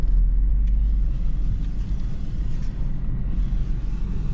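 A car's engine gives a steady, close low rumble as the car creeps slowly forward and then reverses near a wall, with no other sounds over it.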